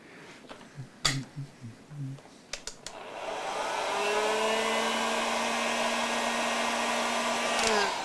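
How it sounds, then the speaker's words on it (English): A few quiet knocks and taps, then a hot air blower switches on and whines up into a steady, close airflow hiss with a humming motor tone, running evenly for several seconds, used while swapping the pickups on a Hartwood 335 copy guitar. "when using the hot air blower"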